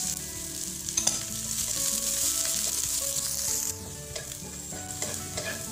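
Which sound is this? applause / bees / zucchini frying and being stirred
zucchini frying and being stirred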